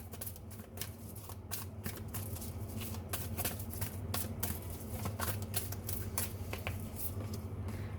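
A deck of tarot cards is shuffled by hand in a steady run of crisp riffling flicks and slaps, close and continuous throughout, with a faint low hum underneath and no voices.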